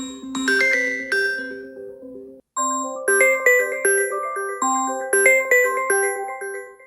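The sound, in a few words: Samsung One UI 7 ringtone sound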